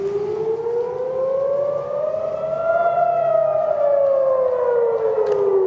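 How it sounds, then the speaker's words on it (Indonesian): Air raid siren wailing over Jerusalem during a missile interception, one long steady tone that slowly rises, peaks and falls, loud and alone with no talking. "di Yerusalem, sirene berbunyi saat rudal dicegat sistem pertahanan Israel"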